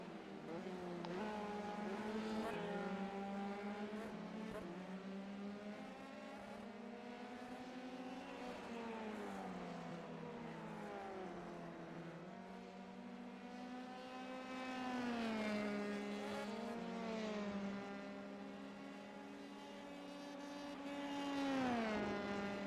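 Race cars from an F3 racing video game on a qualifying lap keep up a continuous high engine whine. Its pitch climbs through the gears and drops under braking, with swells as cars rev harder.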